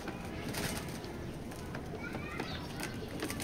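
A red grizzle male pigeon of down shape coos steadily in a loft, its low throaty calls close and continuous over a busy backdrop of other birds and indistinct human chatter.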